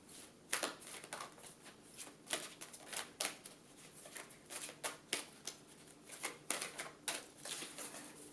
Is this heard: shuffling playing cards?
yes